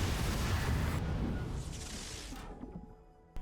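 A bowling ball exploding from a decoupler impulse in Kerbal Space Program 2, a loud rumbling blast that slowly fades out over a few seconds, with a sharp pop at the very end.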